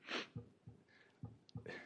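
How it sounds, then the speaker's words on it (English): A sneeze bursts out once at the start, loud and close, during a town council meeting presentation. Quieter breathy sounds and short bumps follow. "about to sneeze."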